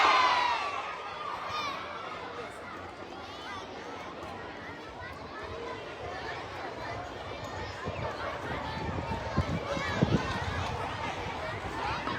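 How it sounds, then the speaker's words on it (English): A crowd of schoolchildren at a sports day cheers and shouts, a loud excited roar of many young voices that settles into busy chatter and running footsteps outdoors. "Give a huge round of applause."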